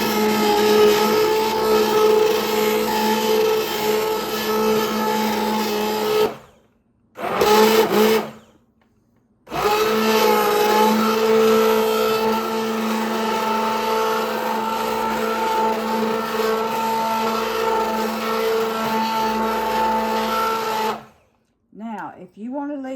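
A blender purees homemade tomato basil soup made with homegrown tomatoes, running as a loud steady whir with two short stops partway through, then falling silent near the end; speech may sound faintly around it.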